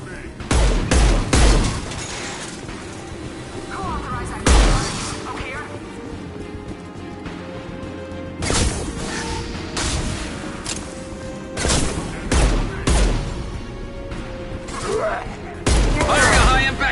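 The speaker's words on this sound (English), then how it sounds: "Firing a high-impact shot!" Battle gunfire from the Mass Effect video game on PS5 during a krogan fight, with repeated loud bursts and heavy booms scattered over about seventeen seconds, mixed with game voices and background sound.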